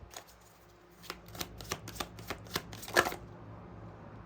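A deck of tarot cards is shuffled and cards are pulled, a quiet close series of crisp riffling snaps at a fairly regular rhythm, with soft handling sounds between them and no talking.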